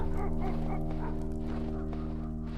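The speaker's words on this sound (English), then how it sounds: "Sure are a lot of lively dogs out tonight." Dogs in the stealth video game The Dark Mod, giving repeated barks and yips over a low droning game ambience, fairly loud and near.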